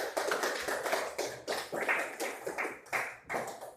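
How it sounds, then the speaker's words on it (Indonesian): A classroom of pupils clapping for a presenting group, a quiet, uneven burst of individual hand claps in loose rhythm, close and alone without talk. "Tepuk tangan untuk kelompok 4."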